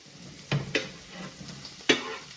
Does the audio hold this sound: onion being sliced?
no